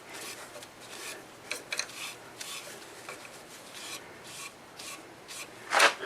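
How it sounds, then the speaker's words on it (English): Cloth wiping polycrylic finish onto a wood turning, a soft, close rubbing with scattered brief scuffs and one louder rasping swipe near the end, no voices. "I can take this cloth and then wipe it in. I'm just trying to wipe off any streaks that are there."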